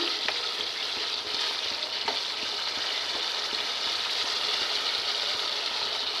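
Masala for rohu fish kalia frying in oil in a pan, a steady close sizzle with soft stirring scrapes and a few light clicks throughout, no voices.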